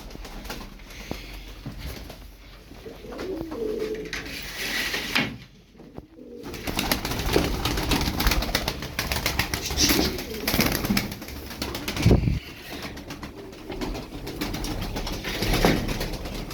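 Ala breed game pigeons cooing in a loft, soft repeated coos layered with rustling and wing movement, close and continuous with a brief quieter gap midway.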